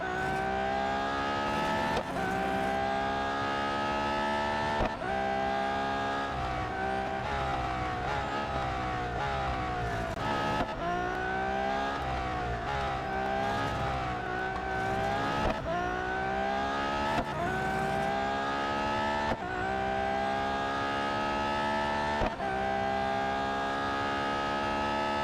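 A race car in the Real Racing 3 mobile game roars continuously, its engine note rising and falling through gear changes, with repeated tire squeals as it skids through corners; the sound is loud and steady throughout.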